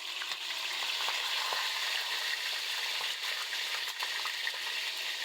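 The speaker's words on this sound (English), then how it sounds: "a frying pan full of screaming hot olive oil." Steady, loud sizzling of chicken frying in very hot olive oil, a continuous crackling hiss with small pops, close up and without voices.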